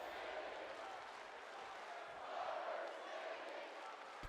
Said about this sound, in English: Crowd in the arena